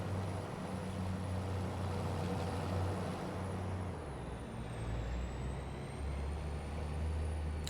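A worn truck and trailer driving in Farming Simulator, with a steady low engine rumble and a high whine that dips partway through, continuous and close.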